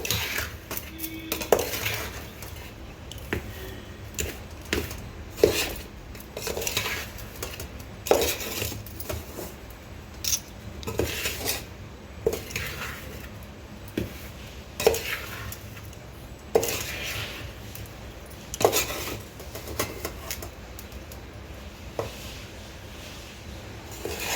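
Utensil scraping and clinking in a pan as chutney powder is mixed with a tempering, a steady run of irregular metallic stirs and taps over about twenty-four seconds, no voices.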